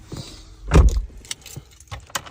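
Keys jangle close by, then a pickup truck engine cranks and turns over in a burst before settling, with a few soft clicks and knocks, outdoors at a snowplow setup with a trailer.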